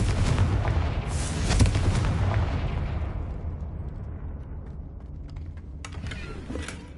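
A Confringo blasting spell detonates in a Hogwarts game, opening with a loud, broad fiery burst that rolls off into a long decaying rumble, followed by fainter crackling debris near the end.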